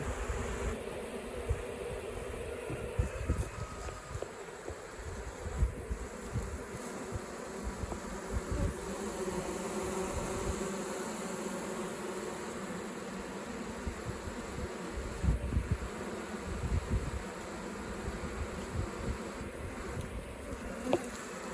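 Honey bees buzz steadily during a honey harvest, a dense, continuous hum of many insects near and around, with occasional knocks and handling noises and no talk.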